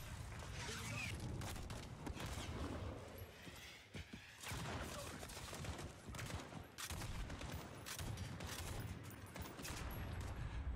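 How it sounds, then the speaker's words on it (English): Enemy gunfire in the Call of Duty Modern Warfare video game crackles in rapid, irregular bursts and volleys, fairly close, mixed with impacts and mechanical clatter, with a player talking at times. "where are they shooting me from?"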